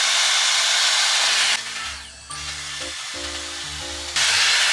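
Dyson Airstrait hair dryer blowing steadily at close range, a loud continuous rushing whoosh that drops to a lower, quieter airflow setting partway through before returning to full blast.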